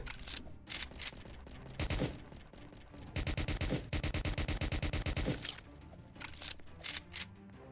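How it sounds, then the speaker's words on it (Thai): Rapid gunfire in the video game Roblox Prison Life, with dense bursts of quick repeated shots, some sustained automatic volleys and scattered single cracks, fairly close and loud with no talk. "มีคนไล่ยิงกัน"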